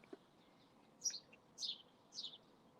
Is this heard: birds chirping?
yes